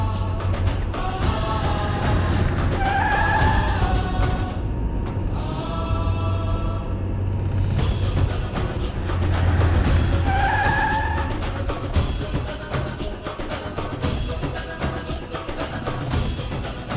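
A car driven fast with tires skidding in a Hindi TV drama scene: loud engine roar underneath, with two sharp, high tire squeals a few seconds apart and a rushing pass in between, no talking.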